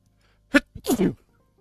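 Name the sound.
sneeze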